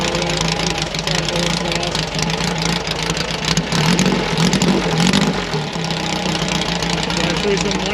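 A 1959 VW sandrail's air-cooled 1200cc four-cylinder boxer engine runs at a loud, steady idle close by, with a continuous throbbing rumble and someone talking faintly beneath it.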